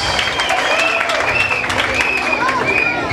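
An audience claps steadily and loudly for a contestant at a cholita beauty pageant in New York. The applause runs continuously, with crowd murmur and a few whistles mixed in.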